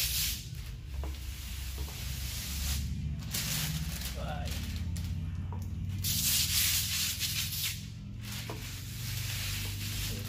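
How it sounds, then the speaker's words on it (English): A spray bottle hisses in a few short spritzes of water onto a 2003 Corvette window during tinting, over a low rumbling background, with a voice faintly present. "once you release it, spray it down"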